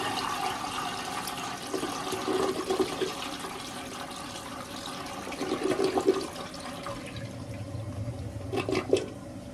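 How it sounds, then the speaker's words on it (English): A household toilet in a grandmother's bathroom flushes, a steady rushing swirl of water running throughout with gurgling surges near the start and middle, fairly weak and heard alone. "let's get this toilet a flush"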